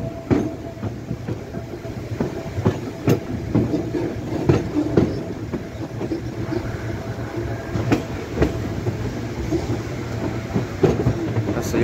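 A HÉV suburban train in Budapest runs along the rails, a steady loud rumble with repeated clickety-clack wheel beats over the track joints, heard from inside the car without talk.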